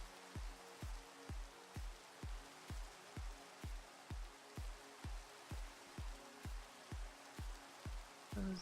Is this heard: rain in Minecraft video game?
yes